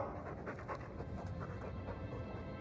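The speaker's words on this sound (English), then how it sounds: "He's a sweet dog, Hawk." A dog in the Dragon Age 2 video game pants softly and rapidly, a faint, breathy rhythm of quick huffs sitting low under game ambience.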